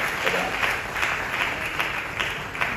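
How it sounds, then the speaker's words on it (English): An audience at a women's conference in Accra applauds the Affirmative Action Bill, steady clapping from a large crowd filling the room at an even level throughout. "Please let's have a huge round of applause for that."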